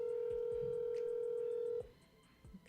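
A phone call connecting tone: a steady electronic tone holds for nearly two seconds and then cuts off, leaving a faint, quiet background.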